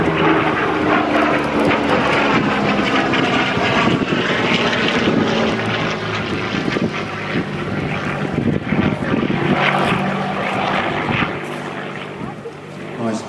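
A Curtiss P-40 Kittyhawk propeller fighter plane drones steadily overhead at Temora, New South Wales, its engine roaring loudly and continuously with a slight wavering in pitch.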